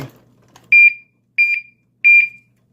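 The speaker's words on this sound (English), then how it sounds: "that alarm's pretty loud when it goes off" Alarm on a Chinese smiley face padlock going off, three loud, close, shrill electronic beeps, each a short double pulse, evenly spaced about two-thirds of a second apart after a faint handling rustle.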